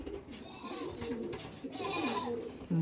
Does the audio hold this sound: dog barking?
no